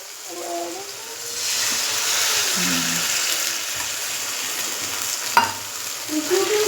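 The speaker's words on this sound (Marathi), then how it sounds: "आता हे बघा, याच्यात पाणी टाकून घेऊ थोडं." Water poured into a sizzling besan tadka in a pan makes a loud, steady sizzle and hiss, with a few utensil clinks and scrapes of stirring near the end.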